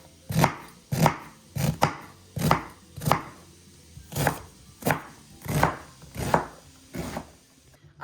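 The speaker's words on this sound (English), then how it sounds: "I'm gonna just chop up an onion." A knife chops a medium onion on a cutting board in about ten sharp, evenly spaced strokes, close and clear with no talking.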